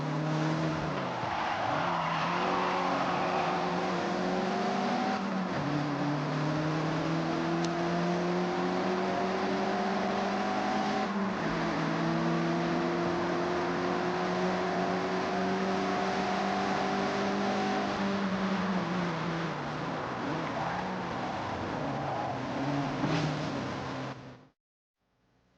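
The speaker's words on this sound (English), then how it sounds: "Attack these corners. Don't worry about traction. The MX-5 likes to be sideways." A Mazda MX-5 slides sideways through corners in the racing video game Forza Horizon, its engine droning and tires squealing in long rising and falling sweeps before the sound cuts off abruptly.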